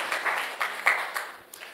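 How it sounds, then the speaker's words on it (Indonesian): A church congregation gives a quiet round of applause for the praise and worship team, with soft, scattered claps that come in small bursts and gradually thin out. "Boleh tepuk tangannya di-extend buat tim praise and worship kita."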